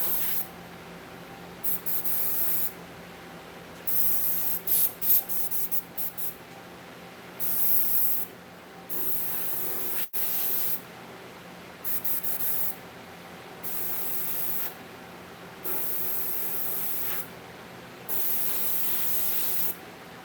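Airbrush spray paint shading a mask, heard as about eight separate bursts of steady hiss, each lasting one to two seconds, separated by short quiet gaps, fairly close and alone with no talking.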